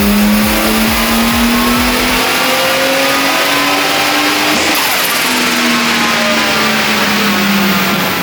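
A Datsun 280ZX with a turbocharged L28 engine revs hard on a dyno during a power run, its loud, sustained engine note climbing steadily in pitch, dipping briefly and then rising again, with no voices.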